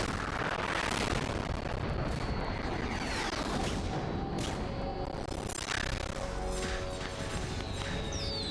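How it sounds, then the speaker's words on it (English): Rockets explode in the video game Metal Gear Solid 2 as a dense, continuous barrage of roaring blasts and crashes, loud and sustained throughout with no pauses and no talk. "It's so many rockets."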